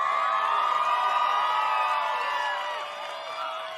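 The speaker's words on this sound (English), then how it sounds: "Have I got some applause that can go with it?" A canned applause and crowd cheering sound effect played on a radio-style show, with a dense steady roar of cheers and whoops that continues at an even level before easing slightly toward the end.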